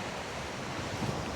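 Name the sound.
strong wind on an island disc golf course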